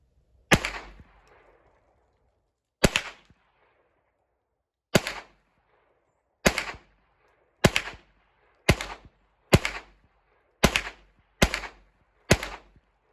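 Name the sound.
gunshots from a Hi Standard Dura-Matic pistol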